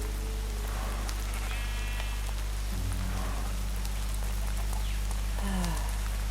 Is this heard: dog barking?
no